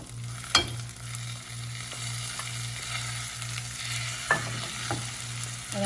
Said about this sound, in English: give these a good stir